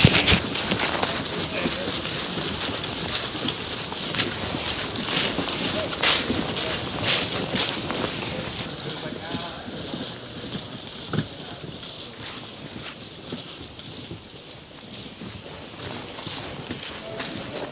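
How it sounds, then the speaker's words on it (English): Draft horses walk along a wooded Adirondack trail, their hooves clip-clopping steadily in a loose, ongoing rhythm at moderate distance, with people talking over the outdoor ambience throughout. "That's why they wanted me to pull them in with the horses"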